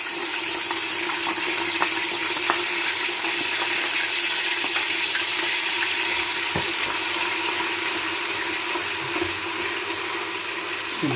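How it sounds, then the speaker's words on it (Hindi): Garlic-ginger paste frying in hot oil for beef nihari gives a steady, close hiss and sizzle that runs throughout, with occasional small pops and no talk. "ये लहसुन अदरक का पेस्ट अब डाल रहे हैं उसी तेल में।"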